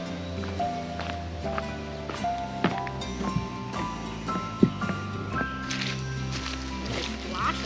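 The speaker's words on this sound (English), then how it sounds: "Can you hear that suction?" Footsteps slosh through wet, muddy ground at Selkirk Provincial Park, with soft sucking squelches and splashes coming at an uneven walking pace, close to the mic, mixed with other faint noises.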